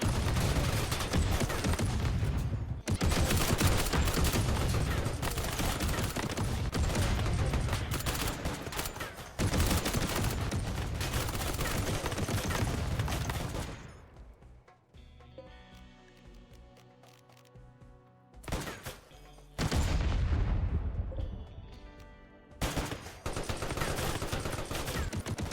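Heavy suppressive gunfire in a video game roars in long continuous bursts, loud and dense, breaking off into a quieter lull with lingering tones before the volleys resume; no talking.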